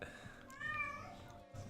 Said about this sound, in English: My cat meows a lot.